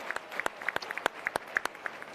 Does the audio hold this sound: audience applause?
yes